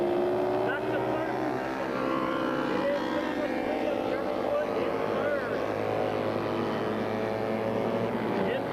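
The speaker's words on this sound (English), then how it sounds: "They come down into turn 10. Powler closing rapidly up on the back wheel of Henning's machine" Racing motorcycles at a 1989 road-course race at Bryar Motorsports Park in Loudon, New Hampshire, roar continuously through a corner, engine whine rising and falling under steady commentary.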